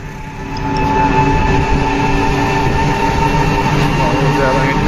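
A metro train in India rumbles steadily with a constant mechanical hum and tonal whine, loud and close, with faint voices mixed underneath.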